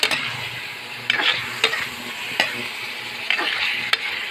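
Afritada sizzling and frying in a pan, with a steady hiss broken by several sharp scrapes and clatters of a utensil stirring the stew.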